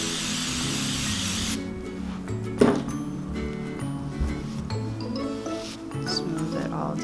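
A short burst of hairspray hisses onto a brush at the start, followed by quieter rustling and handling sounds with a voice speaking softly.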